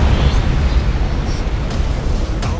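Torpedo explosions against ships in the Warhammer 40K space battle game Battlefleet Gothic Armada 2: a loud, continuous blast rumble with crackling bursts layered through it, without talk.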